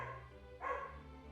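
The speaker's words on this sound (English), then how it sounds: "I gotta wait for the dog." A single short dog bark, faint and somewhat distant, heard once over a low steady background hum.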